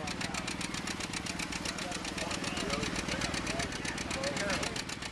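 A John Deere 720 antique tractor pulling at a tractor pull, its engine pounding with a loud, steady rapid thumping throughout, with a crowd and an announcer's voice mixed in.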